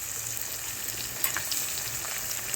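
Tomatoes frying with onions and turmeric in a pan hiss in a steady, close, continuous sizzle with a few faint stirring clicks, no voices.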